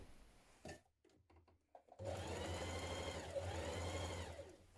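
Sewing machine stitching a 1.5cm seam along a long fabric edge of children's dungarees, starting with a few short bursts, then running steadily and fairly loud without a break.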